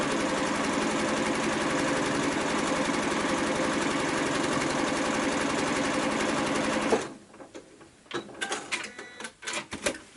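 A sewing machine stitches through quilt block fabric in a steady, loud, fast mechanical run for several seconds, then stops abruptly, followed by quieter fabric handling and light clatter.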